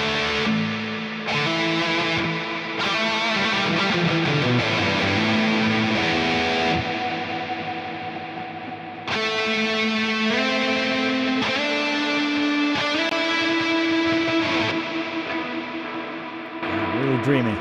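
Electric guitar through a PolyChrome DSP pedal with shimmer, modulation and bloom, playing sustained dreamy chords and swelling notes that wash into each other, loud and continuous with a brief dip before the final swell.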